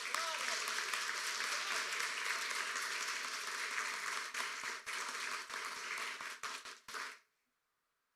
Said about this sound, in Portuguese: Aplauda Ele nessa manhã